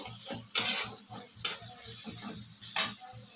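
Egg curry is stirred in a hot frying pan: a steady sizzle runs underneath while the spoon scrapes in regular strokes, with a few brighter, louder swishes. Nobody speaks.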